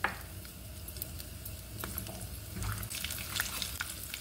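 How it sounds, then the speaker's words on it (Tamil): Chana dal and garlic fry in hot oil for a chutney, giving a steady close sizzle with scraping stirring sounds and occasional light clinks, with no talking. "இப்போ நம்ம இந்த கடலைப்பருப்பு மேலே போட்டு வறுத்துக்கிடலாம்."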